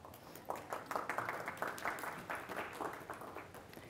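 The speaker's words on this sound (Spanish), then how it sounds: "un fuerte aplauso para ella" A conference audience claps steadily for a few seconds, a moderately loud burst of applause with no one speaking over it.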